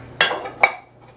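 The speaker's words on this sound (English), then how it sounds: "then we'll give that a good stir" A spoon clinking twice against a bowl while stirring dry ingredients with salt for fudge brownies; two short bright knocks close by, with quiet between them.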